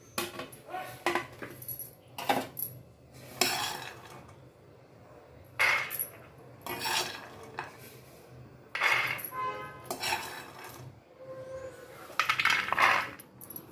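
Bursts of dry rattling and clinking as roasted peanuts are scraped and tipped into a metal pot, with pauses in between.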